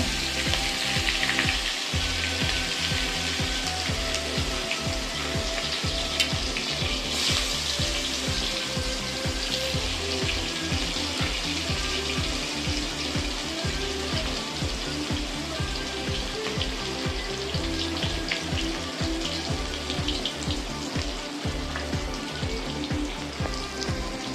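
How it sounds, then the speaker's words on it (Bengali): Chopped onions sizzle and crackle in hot oil in a home kitchen pan, a steady dense frying hiss with a rain-like patter that holds loud and even throughout, with no talking. "তেলটা তো গরম হয়েই গেছে বন্ধুরা আমি এবার পেঁয়াজ কুচিগুলো দিয়ে দিলাম"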